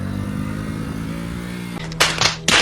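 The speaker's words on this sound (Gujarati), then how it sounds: "અહીંયા બાઇક ફેરવે છે" A motorcycle engine runs steadily on a beach, idling with a low hum before several sharp bursts of revving near the end, loud and close.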